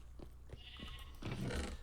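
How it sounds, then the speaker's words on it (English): Sheep bleat from an automatic sheep farm in the Minecraft video game, a few short calls over low ambient noise, the loudest one near the end. "one of the many things that we need is an auto sheep farm"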